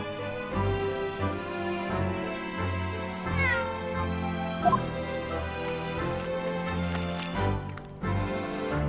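A cat meowing in the video game The Great Ace Attorney Chronicles: several drawn-out meows over steady background game music, fairly clear and close.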